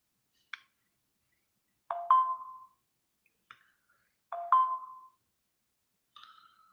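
A phone ringtone plays as a sparse electronic melody: a short blip, then a longer two-note chime, another blip and chime, and a final tone, spaced over several seconds against silence, clear and close with no talk.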